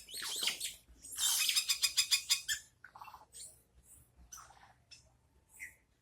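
Birds nesting in a mango tree call loudly in a burst of rapid chirps and squawks, then give sparser, scattered calls close by with no talk.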